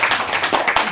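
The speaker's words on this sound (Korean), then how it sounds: "우리 박수 한번 칩시다." Brief burst of hand clapping from a gathered group during a weekend meditation session, a few loud, close, uneven claps within about a second.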